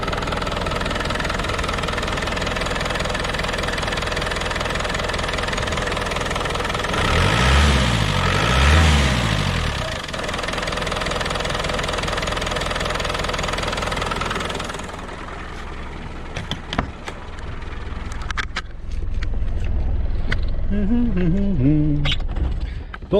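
Engine idling after a completely blocked fuel filter was cleared, a steady close knocking rumble that swells briefly in the middle before settling, with some clicks and handling noise toward the end.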